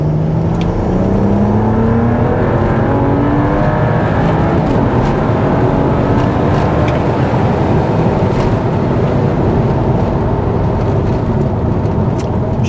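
BMW E92 335i with a 17T turbo running a roughly 70% ethanol E85 mix accelerating hard in third gear, a loud close engine drone rising steadily in pitch for the whole pull, heard from inside the car.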